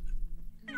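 A cat in the Minecraft video game gives a single short meow at the very end, after a near-silent moment with faint low hum underneath.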